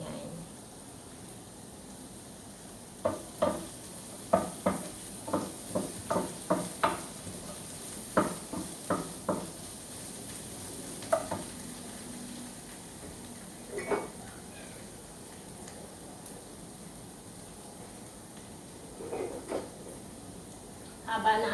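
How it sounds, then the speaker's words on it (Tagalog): Pancit gisado noodles and milkfish marinated in vinegar and garlic fry in a pan as a metal spatula strikes and scrapes in a quick run of clanks over a low sizzle, with a voice now and then. "nagluluto tayo ng pansit at saka binabad na bangus"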